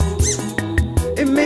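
A squeaky dog toy squeals in quick bursts, several sharp high squeaks in an uneven rhythm, close and loud, with musical sounds underneath, in a Bullmastiff puppy nursery.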